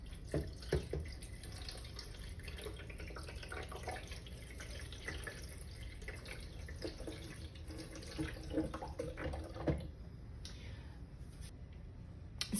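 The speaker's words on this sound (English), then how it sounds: "I'm going to use some mason jars to get this filled up so you can see how much water goes" Water is poured from a mason jar into the fill port of an AeroGarden Harvest Slim, a quiet trickling and splashing with a few small clunks, close by and without talk.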